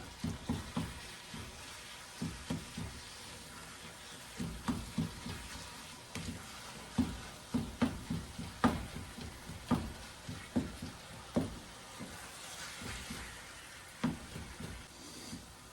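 Ground beef and onion fry in a pan on a glass cooktop, a steady close sizzle broken by a regular run of scraping spatula strokes throughout.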